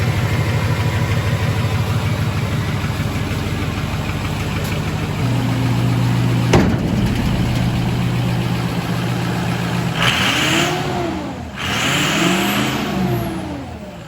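A 7.3L turbo dump truck engine idles with a steady rumble, then revs up sharply a couple of times, the pitch swooping up and back down.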